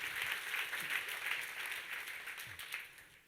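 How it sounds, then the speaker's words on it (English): Audience applause at a company gathering, a broad steady wash of clapping that stays moderately loud without any clear voices over it. "A big round of applause."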